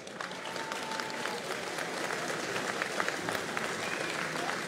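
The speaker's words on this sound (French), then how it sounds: "vous demander tout d'abord d'applaudir très chaleureusement nos pêcheurs" Warm, steady applause from a crowd at the Hauts-de-France pavilion opening at the International Agricultural Show, saluting fishermen and farmers, with sparse claps standing out and faint voices beneath.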